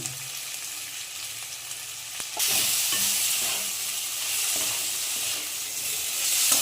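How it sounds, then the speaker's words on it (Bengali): Salted, turmeric-dusted potatoes sizzle and hiss in a hot pan, the frying growing louder partway through, with occasional stirring scrapes and no talking. "আলুটা ভাজা হয়ে গেছে"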